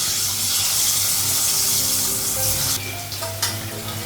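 Paneer and potatoes frying together in a pan give a loud, steady sizzle that fills the clip, with a few soft clinks and shifts of the pan near the end.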